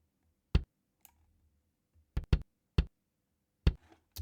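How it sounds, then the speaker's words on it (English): Isolated kick drum hits from a gated kick track sound in sparse, irregular bursts separated by near silence, each one short, punchy and abruptly cut off. "So we're just hearing our kick drum now"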